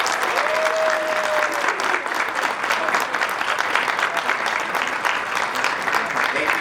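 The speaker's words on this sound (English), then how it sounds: "let's give them a round of applause to the graduating class of 2020" Graduation ceremony audience gives a round of applause, a steady dense wash of many hands clapping that continues loud and even throughout, with a brief tone near the start.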